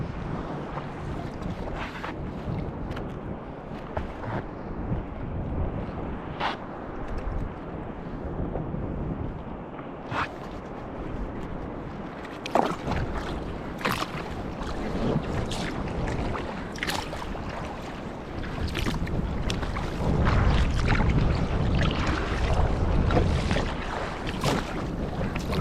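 A boat pushes through waves on a windy morning at sea, with steady rushing water and wind buffeting, punctuated by repeated sharp splashes and slaps as the hull meets the swell, growing heavier toward the end.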